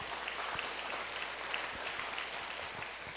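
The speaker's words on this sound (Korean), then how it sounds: "박수 한번 보낼까요?" Audience applause at a Korean church service, a steady, soft wash of many hands clapping throughout, heard from a distance with no talk.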